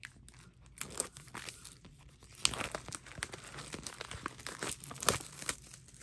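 Plastic packaging on a Rising of the Shield Hero Season 2 limited edition set is ripped open by hand, producing close, continuous crinkling and tearing with sharper crackles, with no talk.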